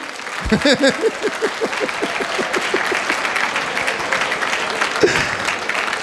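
Students clap together in a classroom, a dense burst of close hand claps with a few louder ones early on, then a steady sustained patter under a faint voice.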